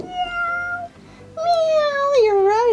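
A toy cat from a farm animal set plays two electronic meows, the second longer and rising then falling, close and clear with faint background noise.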